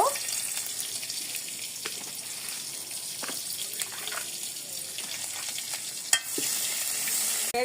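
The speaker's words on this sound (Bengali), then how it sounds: "আমরা এই যে এখানে 5 ফোড়ন দিয়ে নিব। এখন আমরা একটু পেঁয়াজ দিব" Onions going into hot oil seasoned with panch phoron, the five-spice mix, in a pan used for an aloo dal, giving a steady close sizzle with occasional light stirring clicks and no talk.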